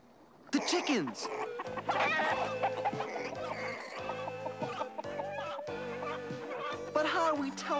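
Chickens cluck and squawk close by over a busy bed of music, with a burst of fowl calls near the start and scattered clucks throughout.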